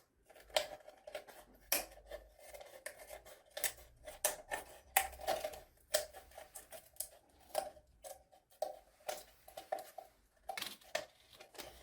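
Scissors snip repeatedly through a fabric sock, each cut a crisp close click, arriving in an irregular series of short strokes against a quiet background with no speech.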